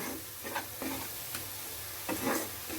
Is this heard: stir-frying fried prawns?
yes